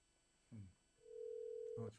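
A single steady ringback tone from a phone call placed through Siri sounds for under a second between short bursts of voice, faint and telephone-like.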